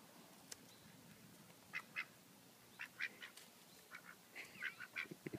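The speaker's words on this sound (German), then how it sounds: "Das sind auch Enten." A flock of ducks being fed outdoors gives a scattering of quiet quacks that grow busier toward the end, faint and somewhat distant over soft background noise.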